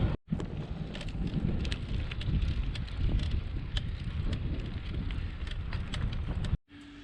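Strong gusting wind on the Île de Ré coast buffets the microphone in a loud, continuous roar with low rumbling, ending abruptly.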